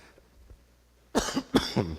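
Two close, sharp coughs in quick succession from a person at a church service, after a quiet stretch with faint background noise.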